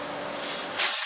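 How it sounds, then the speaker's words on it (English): Sharp, steady hiss of air rushing out of a Husqvarna Z-54 mower tire as the valve core is pulled, loud and close, getting brighter and stronger near the end of the brief burst. "I'm gonna go ahead and pop the valve core out of this guy"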